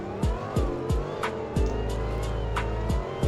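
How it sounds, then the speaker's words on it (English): A car in the Greenville driving game launches and accelerates hard, its engine rising in pitch through several quick gear shifts with short, rhythmic drops between them, loud and close. "We're on the main road again, so let's launch it."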